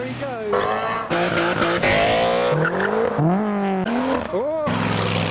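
Modified car leaving a car show by a roadside, loud and close, engine revving hard through rising and falling pitch sweeps as it accelerates away, with tyre squeal and a crowd's voices underneath.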